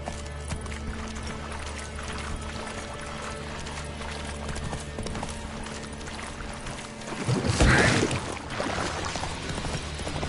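Roach, a horse in the video game The Witcher 3, runs with soft hoofbeats under game music and ambience, followed by a brief louder rushing burst near the end.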